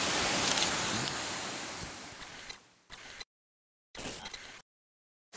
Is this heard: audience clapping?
no